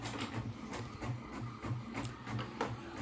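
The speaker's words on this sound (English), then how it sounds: "That's my printer." A home printer runs off copies late at night, a rhythmic mechanical whirring and chugging that pulses about twice a second with faint clicks, steady and moderately quiet at close range, no voices.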